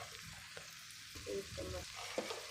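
Potato filling for aloo samosas fries over a low flame, giving a soft, steady sizzle broken by a few light scrapes and taps of a stirring spoon.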